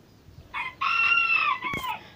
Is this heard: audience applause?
no